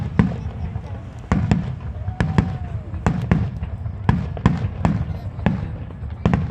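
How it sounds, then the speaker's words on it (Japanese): Large fireworks bursting over Enoshima on an autumn night, a rapid irregular series of loud booming explosions and sharp cracks, one whistling rise among them, with a faint crowd murmur beneath. "秋の夜空を彩るこの大きな花火のように"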